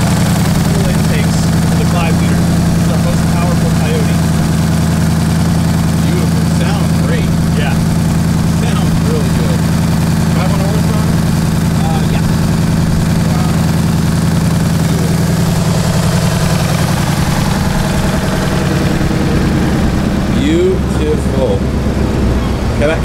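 Ford Mustang Dark Horse V8 rumbling at a steady idle, a loud, close, continuous low drone that settles slightly near the end, with people talking over it.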